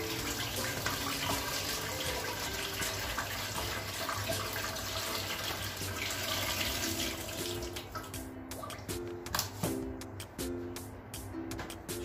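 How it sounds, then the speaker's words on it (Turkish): Bitter water draining from cracked green olives, a faint continuous trickle and splash of liquid with light clinks and taps toward the end, heard alone. "Bu zeytinlerimin de sularını süzeceğim ve kışlık salamura olarak hazırlayacağım."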